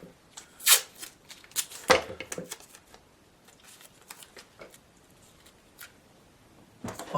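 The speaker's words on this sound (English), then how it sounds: "Let's just use the masking tape just to hold it on the board." Masking tape is torn off the roll and pressed onto a board in short, papery rips and crackles, close and fairly soft, with scattered handling rustles between the louder tears.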